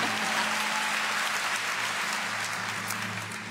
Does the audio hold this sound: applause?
yes